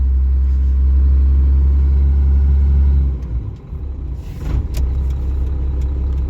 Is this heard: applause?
no